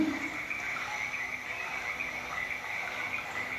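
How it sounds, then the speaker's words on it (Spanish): Toads croak in a natural outdoor setting, a continuous, fairly faint chorus of steady trilling calls with no talking. "Se escuchan los sapos,"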